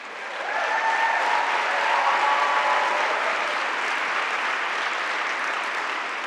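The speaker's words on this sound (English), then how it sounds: "Please give them another round of applause." Sustained audience applause at a lecture honoring Supreme Court Justice Sonia Sotomayor and Rita Moreno, a dense steady wash of clapping that swells after the first half second and holds loud for about six seconds.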